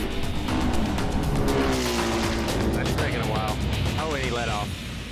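Big Block Chevy Nova drag racing down the strip, a loud sustained engine roar with rising and falling revs, under commentator talk and crowd noise throughout.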